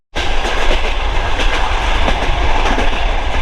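An old Soviet overnight train rolling from Khiva to Tashkent, a loud, steady rumble with faint rhythmic clatter of wheels on rails, heard from inside the carriage with no talking.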